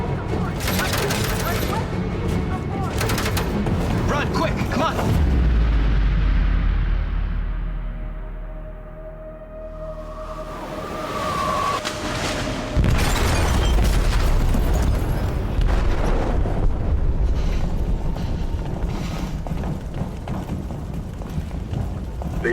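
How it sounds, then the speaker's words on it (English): Detroit Become Human game scene of an explosive detonating in a ship's hold, with heavy booming blasts and rumbling roar, a low sustained rumble in the middle, then further loud crashing bursts, with shouting voices mixed in. "detonated an explosive in the hold"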